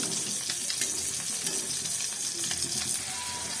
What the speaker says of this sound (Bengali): এর মধ্যে আমি মাছগুলো একটু ভাজতে দিয়ে দিচ্ছি